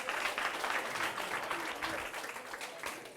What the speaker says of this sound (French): On applaudit très très fort pour les accompagner.